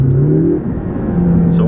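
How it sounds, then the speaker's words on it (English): A 2012 McLaren MP4-12C's engine rises and dips through downshifts on a drive into downtown Houston, loud and close with a strong harmonic drone that swells and settles. "So we're going to give it a few downshifts."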